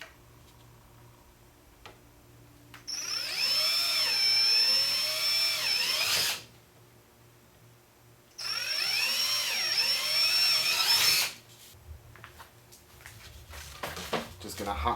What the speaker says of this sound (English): Just need to drill some holes for my igniter